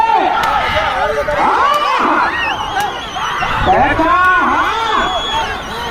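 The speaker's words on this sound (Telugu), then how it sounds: "జనాలు గట్టిగా విజిల్లు కేకలు" A loud crowd at a bullock pulling contest roars with shouts and sharp whistles, excited voices rising and falling continuously close by.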